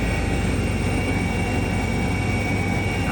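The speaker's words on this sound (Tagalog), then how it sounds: "Sana hindi tayo iwan sa ere ng helicopter nito." Steady, loud rotor and engine drone inside a helicopter flying over Osaka, Japan, a continuous unbroken roar filling the whole clip with no talk.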